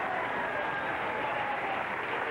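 Studio audience applauding on a 1969 late-night television talk show, a steady dense wash of clapping that fills the whole stretch at even loudness, with faint voices mixed underneath.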